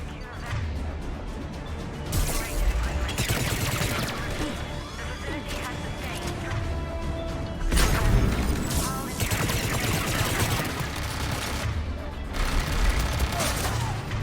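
Turret gunfire in the Mass Effect Legendary Edition video game at Cronos Station, a dense, continuous barrage of shots and crashing impacts, loud and sustained, with voices talking over it.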